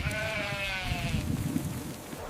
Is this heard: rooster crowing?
no